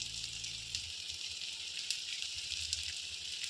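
Masala of chilli powder, salt and jaggery sizzling steadily in hot oil for a North Karnataka brinjal curry, a close, continuous bright hiss with faint crackles and no talk.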